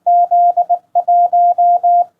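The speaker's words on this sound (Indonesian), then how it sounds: "mengirim kode Morse gitu ya" Morse code CQ call keyed in CW mode on a Quansheng UV-K5 handheld radio: a steady mid-pitched sidetone beeping in dashes and dots with short gaps, loud, clean and alone.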